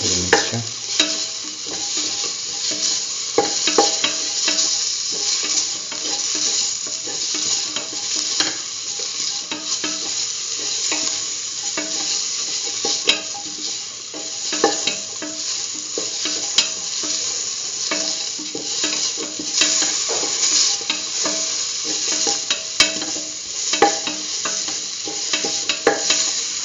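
A spoon stirs tomato and mixed spices through a simmering potato cucumber stew mixture in a pot, with a constant close sizzle and scattered scraping clicks of the utensil against the pot, no voices.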